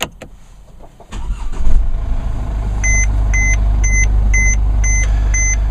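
A Chevy Cruze or Mercedes GLK 250 starts with a push button: a brief crank, then the engine catches and settles into a steady low idle while a regular series of chime beeps repeats over it.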